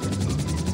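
A helicopter in GTA 5 thrums loudly and steadily with a pulsing rotor chop, close and continuous with no voices.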